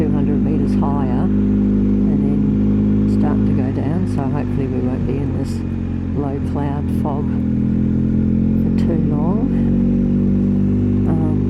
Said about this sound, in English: There are cars going in both directions and motorbikes